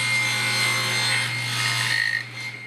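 A wooden block is sawn down to size for a marking gauge, a steady close rasping stroke that carries on without a break before easing off near the end.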